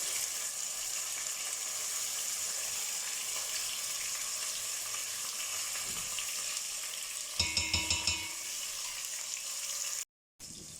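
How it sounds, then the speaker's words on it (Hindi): Marinated chicken frying over a high flame for a spicy garlic chicken roast, a steady close sizzle, then a burst of rapid scraping stirs near the end before a brief dropout. "इसको जो है वो हाई फ्लेम पे हम इसकी भुनाई करेंगे।"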